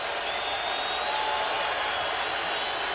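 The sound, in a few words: stadium crowd cheering at NFL football game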